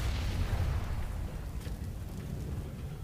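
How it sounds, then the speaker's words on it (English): A grenade blast in the video game Counter-Strike, heard as a low, rumbling explosion that stays loud and broad through the whole short moment, with no voices over it. "Nade down the hallway."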